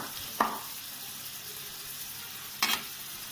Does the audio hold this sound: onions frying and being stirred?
yes